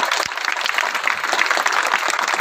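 An audience applauds at a community tribute event in Maharashtra, a steady, dense wash of clapping that holds at an even level throughout with no voices over it.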